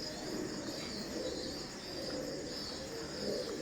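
An imported Teddy pigeon pair, one female and one male, makes faint low cooing over a continuous noisy background hum.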